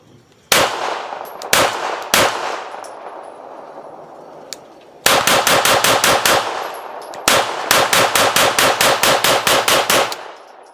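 An Atlas Titan Reloaded 2011 pistol fires loud, sharp close shots: three spaced single shots, then two fast strings of about eight rounds each, with brief ringing decay between.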